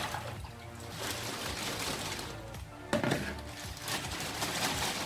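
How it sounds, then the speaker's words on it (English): Water pours and trickles out of a plastic bag of spinach in a kitchen, a light splashing flow rising briefly near the middle, close and fairly quiet, with no talking. "I'm going to discard the water."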